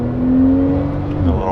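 Porsche 911 Turbo pulling hard in first gear, a brief loud engine note climbing in pitch with a quick drop near the end, heard from inside the car.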